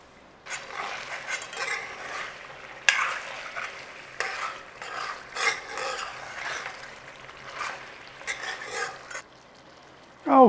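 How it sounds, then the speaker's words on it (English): Chicken ghee roast is stirred in a pan, repeated scraping strokes of a spoon against the metal in irregular bursts over a soft frying sizzle, ending in a louder scrape. "Keep giving it a stir, we don't want to burn it."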